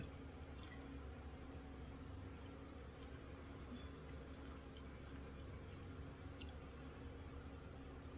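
Water is added with quiet, close squishing and light dripping during makeup removal, soft wet sounds that repeat steadily over a low background hiss.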